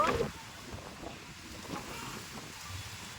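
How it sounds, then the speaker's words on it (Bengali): Wind gusting across an open rooftop ahead of a storm, a low rushing buffet that swells and fades, with a brief louder burst at the start. "ছাদে দেখো কি সুন্দর হাওয়া হচ্ছে"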